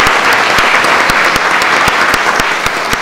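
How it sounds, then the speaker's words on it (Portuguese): Loud, sustained applause fills a formal session hall on Housing Day, dense clapping with occasional louder individual claps rising out of the crowd. "eu pedi uma salva de palmas também para ele"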